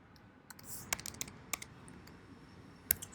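Quick typing on a computer keyboard, with soft irregular key clicks and a few sharper taps in a short burst.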